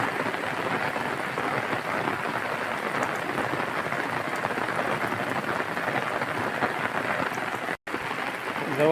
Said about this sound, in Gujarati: જો મિત્રો ફૂલ વરસાદ આવ્યો છે વાડીએ